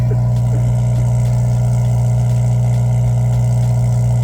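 A straight-piped Honda Integra Type R DC5 engine runs very loud and close, with a steady droning exhaust tone and no talking.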